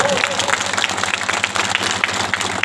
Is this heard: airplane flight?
no